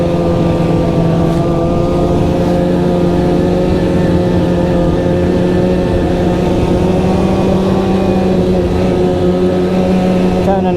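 A Polaris RIOT X snowmobile runs on a trail ride with a loud, steady engine drone whose pitch slowly rises and falls as it cruises, heard up close throughout and with no talk.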